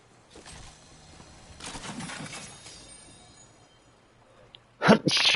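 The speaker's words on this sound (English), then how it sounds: "The half sneeze hurt my lung." A single sharp sneeze bursts out near the end, loud and close, after a stretch of low, hissy background noise from a Fortnite match.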